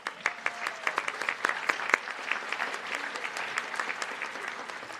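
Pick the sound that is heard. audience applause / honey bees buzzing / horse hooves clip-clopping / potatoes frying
audience applause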